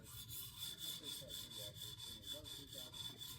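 A Leatherman Wave blade being reprofiled at 17 degrees on a stone in a TSPROF Alpha N guided sharpener makes quick, even scraping strokes, about three or four per second, close and fairly quiet.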